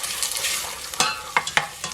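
Diced onion frying in about two tablespoons of olive oil, a steady close sizzle with a few sharp spoon scrapes and knocks against the pan near the end.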